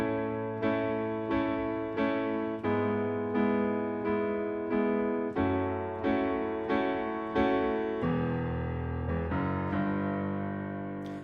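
Piano chords struck in a steady rhythm, each attack ringing out and fading, moving through a song's chorus chord progression with no voices.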